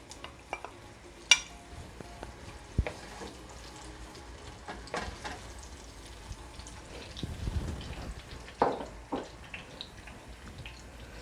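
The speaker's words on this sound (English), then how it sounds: "Just gonna stir it for about a minute or so." Peppers frying in coconut oil for Jamaican ackee and saltfish give a soft, close sizzle, broken by scattered scrapes and clinks as a utensil stirs them around the pan.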